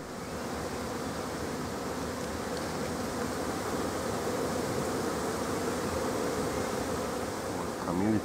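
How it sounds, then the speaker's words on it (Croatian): Honeybees swarm around an apiary set beside chamomile, producing a steady, dense droning buzz that stays close and continuous from start to finish with no voices. "a odmah znači tu je pčelnjak"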